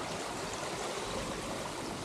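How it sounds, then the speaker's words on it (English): A small stream with little waterfalls beside an old railway track gives a steady, close rush of trickling and splashing water, even and continuous, with no voices. "look at that, lovely little stream"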